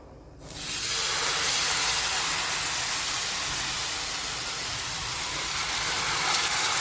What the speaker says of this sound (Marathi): वाफ आलेली आहे, वाफ आलेली आहे